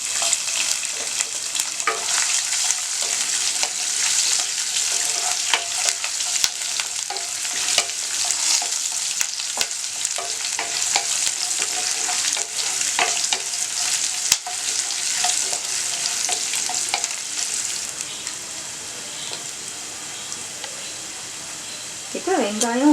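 Ginger and garlic frying in a pan for chicken salna, a bright steady sizzle with spoon scrapes and clicks while a person talks over it, close and fairly loud, easing slightly near the end.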